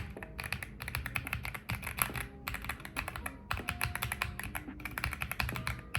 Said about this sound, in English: But this thing is so clicky, bro. Just listen.